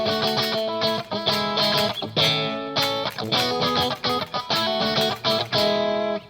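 An electric guitar on its bridge and middle single-coil pickups plays through an EarthQuaker Devices Palisades overdrive set to voice 1. Choppy, rhythmic distorted chords sound loud and alone, with short breaks between strums.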